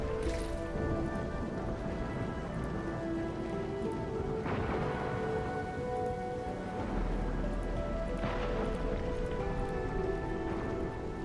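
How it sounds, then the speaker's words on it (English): Heavy rain in the game Endfield pours in a dense, constant hiss and patter, with low rumbles like distant thunder rising and fading several times under the downpour. "It's raining harder. I can't hear anything except for the rain."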